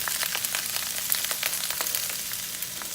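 Vegetables hit a hot wok and stir-fry with a dense, continuous crackling sizzle, close and steady throughout with no talking.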